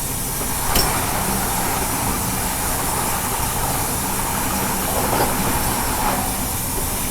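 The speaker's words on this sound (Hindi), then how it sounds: "अभी देखो बगल से क्रॉसिंग होने वाली है आगरा बनारस वंदे भारत एक्सप्रेस के साथ।" Rajdhani Express running from Guwahati to New Delhi crosses the Agra-Banaras Vande Bharat Express, heard from on board as a loud steady roar of rolling wheels and hiss, with a few brief rattling bursts and no talk.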